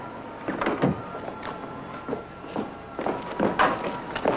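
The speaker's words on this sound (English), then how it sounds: "Don't slam the door." A door is pushed shut among a cluster of soft knocks, shuffles and one low thud, close by and fairly quiet, with no voices.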